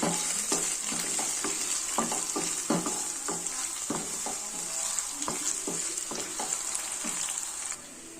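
Chilies and curry leaves fry in a pan for a Telugu chaat-style snack, giving a steady close sizzle broken by frequent stirring scrapes and clinks throughout, with no talking.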